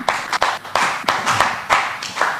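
A group claps for themselves in a series of sharp, evenly spaced claps, roughly eight strong hits over a couple of seconds, close and prominent with no talk over them.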